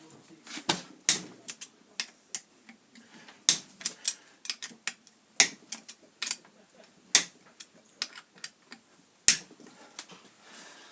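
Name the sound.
Allen key loosening bolts on an Interpump pump head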